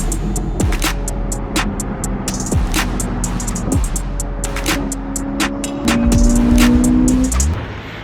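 A Ferrari drives along a road heard from inside, its engine a loud steady drone with tones rising through the gears and swelling louder near the end, with repeated ticking clicks over it.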